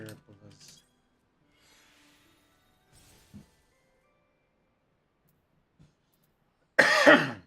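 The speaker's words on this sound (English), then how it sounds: "Please excuse my cough." A single harsh, loud cough bursts out near the end after long stretches of near silence broken only by a few faint, small noises.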